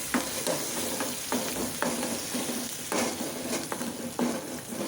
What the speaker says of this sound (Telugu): తాలింపు ఇందులో వేసేసుకుందాం గిన్నెలో